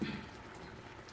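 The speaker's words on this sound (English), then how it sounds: "we are going to let this cook at the same speed or the same heat level, medium, uncovered, so that the water will evaporate" Southern-style cabbage cooking uncovered in a pot over medium heat, a soft, steady patter of simmering and bubbling as water cooks off, close and fairly quiet.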